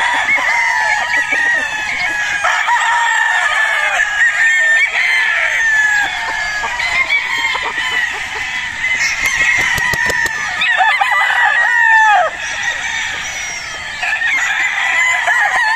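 Battle stag roosters crow and cluck on a farm, several birds calling over one another near and far in a dense, continuous chorus.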